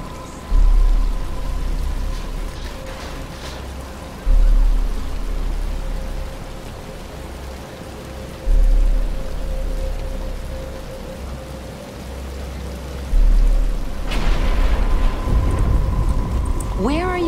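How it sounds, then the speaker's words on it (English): Rain falls in a steady hiss in Batman: Arkham Asylum, with low booming thuds recurring every few seconds and a sustained tonal hum underneath, rising in intensity near the end. "But it's starting to rain."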